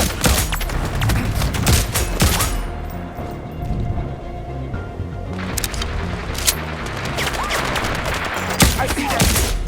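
Gunfire in Sniper Ghost Warrior Contracts: loud dense bursts of rapid shots at the start, a quieter pause, then renewed scattered shots and sharp cracks with a voice speaking between them.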